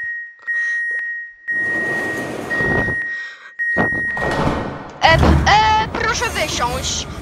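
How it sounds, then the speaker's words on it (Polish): Warsaw metro M2 train doors closing in Roblox, with a steady electronic warning tone and ding over cabin noise and rumble; a person talks loudly over the later part. "Zamykamy lewe drzwi."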